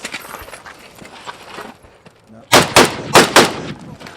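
Four loud, close gunshots from Russian/Soviet-era weapons fired at steel targets on a range, spaced roughly a quarter second apart after a stretch of quieter background noise with faint voices.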